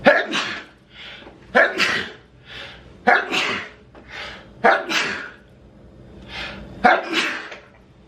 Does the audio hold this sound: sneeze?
yes